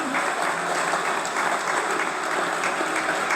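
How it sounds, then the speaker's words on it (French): Sustained applause from an audience at a talk about space and meteorites, a dense, steady wash of clapping filling the room with no voices over it. "je vous laisse applaudir"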